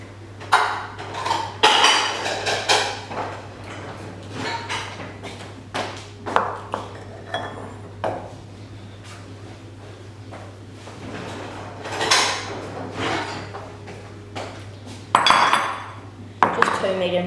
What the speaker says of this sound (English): So grab a bowl, medium-sized bowl.